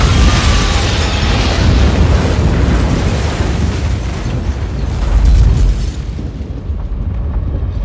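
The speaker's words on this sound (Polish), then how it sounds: "Bomba ukryta w wozie transmisyjnym zniszczyła budynek ONZ w Wiedniu." A bomb hidden in a broadcast van blows up the UN building in Vienna in a film scene, a loud, sustained roaring explosion with rumbling debris that fills the whole stretch before tailing off slightly.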